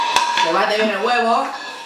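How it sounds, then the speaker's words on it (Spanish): An egg, shell and all, beaten in a bowl at home with a hammer, giving clattering knocks and scraping, ringing dish sounds at close range. "Se bate bien el huevo."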